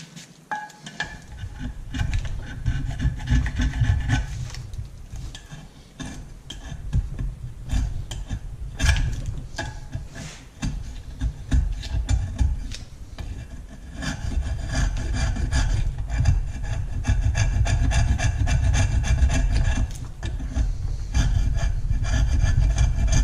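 Someone scrapes old gasket material off a Honda CB125E crankcase cover, making close, repeated rasping strokes that grow denser and more continuous toward the end.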